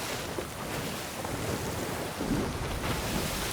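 A sail fills with wind on a ship at sea in Sea of Thieves, heard as a steady, broad rush of wind and water with no voices.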